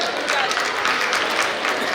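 Sustained applause from an audience at a formal felicitation ceremony, dense steady clapping filling the whole moment at even loudness, with a faint murmur of voices mixed in.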